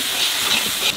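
Garlic sizzling in a frying pan with onions that were already fried, a steady bright hiss close up that runs for about a second with no talking.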